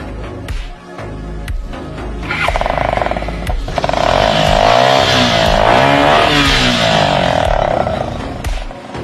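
A motorcycle fitted with a modified silencer starts with a few sharp pops, then revs up into a loud, sustained, raspy engine roar close by that holds steady before easing slightly.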